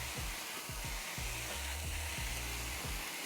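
Tofu and rice frying in oil on a Blackstone griddle, a steady loud sizzle with a low rhythmic scraping or stirring pattern repeating beneath it.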